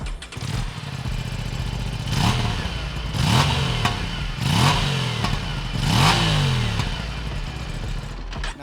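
An Aprilia Tuono 457 twin-cylinder motorcycle engine idles with a lumpy, throbbing beat, then revs sharply four times in a row, each blip rising and falling back close by.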